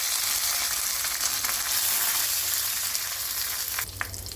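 Mustard seeds, cumin, ginger and curry leaves sizzling in hot groundnut oil, a dense, steady hiss and crackle throughout, close up, with a slight stir near the end.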